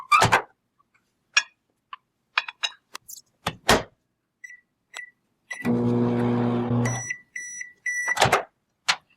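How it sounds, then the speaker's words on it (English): Microwave oven runs for about a second and a half with a steady hum, framed by door clicks, clunks and beeps before and after, while two beakers of polybase heat for suppository preparation in a lab. "You are now ready to microwave those for 30 seconds."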